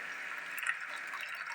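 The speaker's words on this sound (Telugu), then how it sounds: "వేడి నీళ్ళు నేను మంచిగా వేడి నీళ్ళు పోస్తే ఎప్పుడైనా ఏ కర్రీలో అయినా టేస్ట్ ఉంటుంది" Hot water is poured steadily into a pot of Telangana-style mutton curry, giving a continuous close-up splashing rush with no talking.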